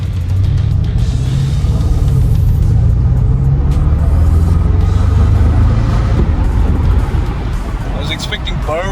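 Inside a Porsche Panamera 4S with a naturally aspirated V8, a constant loud engine and road rumble fills the cabin as the car pulls along, with a voice talking over it.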